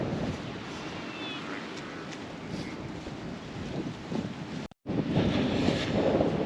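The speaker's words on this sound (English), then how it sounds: "Right, it's pretty windy." Cold wind gusting across a microphone on an open countryside walk, a steady loud rushing buffet lasting throughout with a brief dropout near the end.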